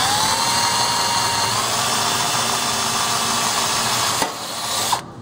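A continuous high-pitched drill whines steadily for several seconds, close and loud, then cuts off abruptly with a brief burst near the end.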